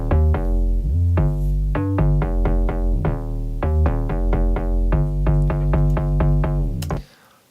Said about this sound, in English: a basic future bounce bass